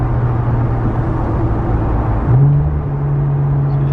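Infiniti Q50 with its muffler deleted holds a loud, raspy engine drone from inside the car, then the pitch jumps sharply upward midway as it downshifts and settles at higher revs.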